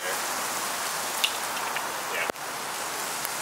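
Steady rain falls outdoors as a dense, even hiss that runs throughout, with one sharp knock partway through and faint voices beneath the wash.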